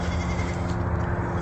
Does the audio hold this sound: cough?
no